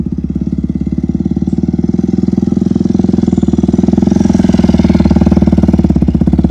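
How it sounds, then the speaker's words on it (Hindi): Loud, steady motorcycle engine running at a stunt-riding practice session, its throttle rising gradually so the pulsing drone grows slightly louder across the clip, with no talking. "थ्रॉटल बढ़ाओ थोड़ा सा"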